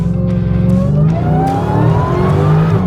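An overland vehicle accelerates hard up a wet on-ramp, its engine climbing loudly in pitch with rising harmonics, close and unbroken.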